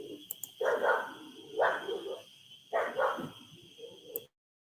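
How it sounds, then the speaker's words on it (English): A dog barks at a horse in a yard, three or four deep, loud barks spaced about a second apart against a steady high background tone. "dog's barking at the horse"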